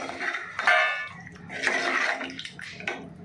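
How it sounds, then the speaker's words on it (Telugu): Tamarind juice is poured into a hot pan in a home kitchen, giving short splashing and sizzling bursts close by, with brief pauses between the pours. "చింతపండు పులుసు అయితే పోసుకుంటున్నానండి."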